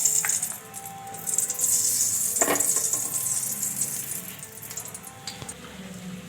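Oil and ghee heat in a pan with a steady, bright sizzle throughout, a few soft clinks and stirring sounds over it, heard close up with no talking.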